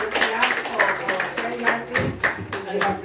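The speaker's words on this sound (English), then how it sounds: "A good clap for our friend Matthew." A church congregation at a Sunday gospel service claps for a guest speaker, a dense, steady applause with sharp hand strikes running throughout and no pause.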